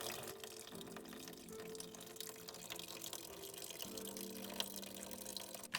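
A steady close trickle and gurgle of pink, diluted coolant draining from the opened driver's-side radiator petcock of a 1.8T New Beetle, continuous liquid flow without speech.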